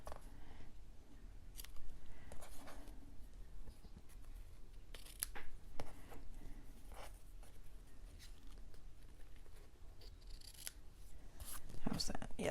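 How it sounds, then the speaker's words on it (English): Scissors trim paper for a mini album in a series of crisp, close snips spaced across the stretch, with quiet handling rustles in between and a person talking. "Let's just trim it a little bit."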